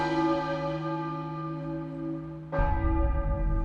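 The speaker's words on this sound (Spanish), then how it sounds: "Una mañana empezaron a repicar las campanas de Acre." A church bell of Acre rings in alarm with a long, humming decay, then a fresh strike lands near the end, loud and resonant.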